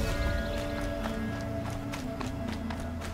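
Horse galloping in the video game Horizon Zero Dawn, a steady run of hoof clip-clops over continuous in-game background sound, fairly close and even in loudness with no speech over it.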